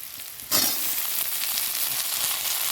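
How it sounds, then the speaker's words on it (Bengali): Potatoes are dropped into a pan of frying onions, setting off a sudden loud burst of sizzling about half a second in that then holds as a dense, steady, close crackle. "পেঁয়াজটা আমার ভাজা হয়ে গেল, এর মধ্যে আলুটা দিয়ে দেবো।"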